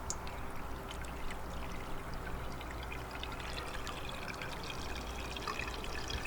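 Steady broadband rush of water flowing through a Sluice Goose GOLDROP gold recovery unit, continuous and fairly even in level with no voices over it.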